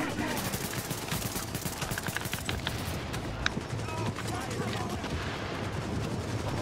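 Sustained gunfire and rapid bursts from The Division's Lincoln Tunnel checkpoint firefight, dense and continuous throughout, with voices talking over the shooting.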